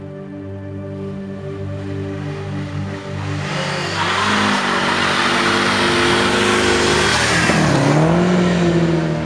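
A Ford Escort RS Turbo from the 1980s accelerates hard, its engine note rising loud and close through two gear changes with a brief dip in pitch at each shift and turbo rush building over roughly nine seconds, with no voices.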